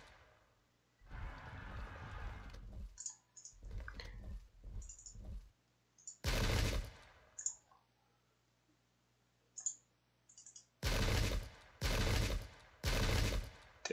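Musket volleys crack out in a Pike and Shot battle between Royalists and the New Model Army, with several separate ragged volleys and scattered clicks, the loudest bursts landing in quick succession near the end.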